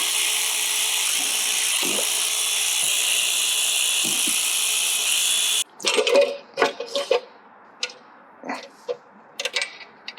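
A ratchet loosening valve cover bolts on a 1977 Datsun 280Z engine, short bursts of clicking near and loud after a steady background hum cuts out.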